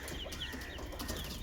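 Chickens on a rural farm cluck softly in a short burst, a couple of quick calls over a faint background murmur.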